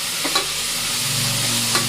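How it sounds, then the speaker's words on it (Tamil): Tomatoes sauté in hot oil in a pan for a mutton gravy, giving a continuous close sizzle with a few soft scrapes of a stirring spoon and no talking. "ஒரு நிமிஷம் தக்காளி வதக்கிடுங்க"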